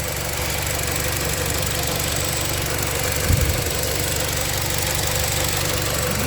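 Chery Tiggo 4 Pro engine idling with the hood open, a steady loud mechanical hum with a faint knocking texture, close and continuous with no talking.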